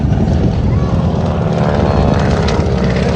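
A warbird fighter plane, the P-47 Thunderbolt "Jersey Jerks", roars past on a low run at a Westmoreland airshow at Arnold Palmer Airport, its propeller engine loud, steady and close throughout.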